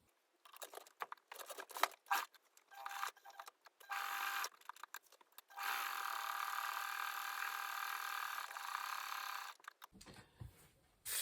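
A sewing machine stitches fabric for Regency breeches in several bursts, short runs at first and then one long steady run, close and fairly quiet with no talking.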